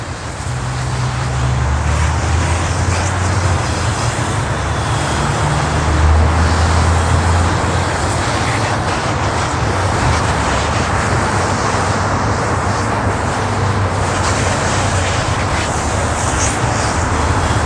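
Continuous hissing spray of a Nomad Mini portable washer rinsing a car, steady and fairly loud throughout with faint low hums in the background, no talking.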